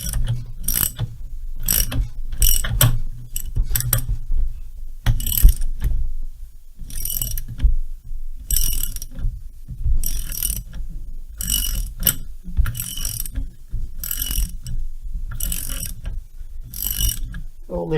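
A socket wrench ratchets in rapid clicking bursts on a Stihl 070 chainsaw during an overhaul, close and repeated with short pauses between runs.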